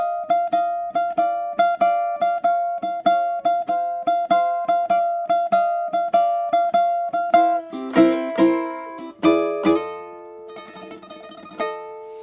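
Finger-style ukulele blues turnaround in F with high-G tuning, a steady plucked pattern of bright repeating notes that moves into a descending run and ends on a strummed chord, played alone with no talk.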